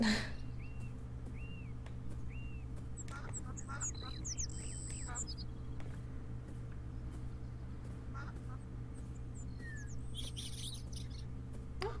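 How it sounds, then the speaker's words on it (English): Birds chirping and ducks quacking in the video game Beyond Eyes, scattered short calls and tweets over a steady low ambient hum, with no talk. "More birdies."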